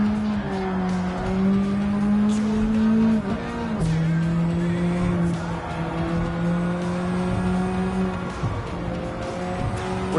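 A car in Gran Turismo 7 roars at high revs while paddle shifters drive hard downshifts. The engine pitch drops sharply at each shift, and faint tire noise sits under the loud, close engine tone.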